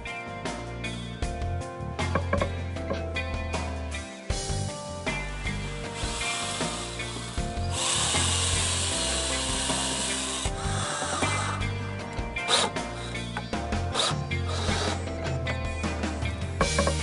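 A power drill keeps driving screws into pre-cut wooden boards for a worm farm box, with repeated whirring bursts, ratcheting clutch clicks and brief pauses across a long stretch, close and fairly loud with no talking.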